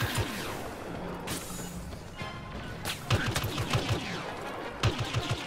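Rapid video game gunfire crackles in bursts and sharp volleys, with louder blasts near the end, while players talk over it.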